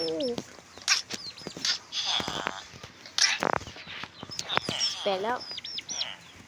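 Synthetic chicken clucks and chirpy electronic bird calls from Minecraft repeat in quick bursts, with someone talking over them in between.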